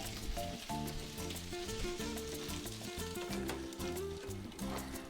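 Potatoes sizzling in a frying pan, a dense continuous crackle held at an even level throughout, with steady tonal background sounds underneath.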